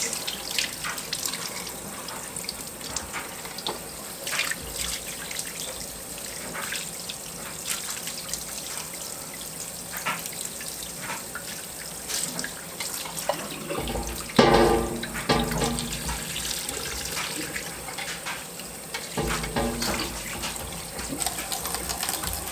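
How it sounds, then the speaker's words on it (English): Water runs steadily from a kitchen faucet while a home-cured ham is rinsed of pickling spice chunks, a continuous splashing flow with a louder burst of splatter partway through. "Just rinsing off some of the big chunks of pickling spice."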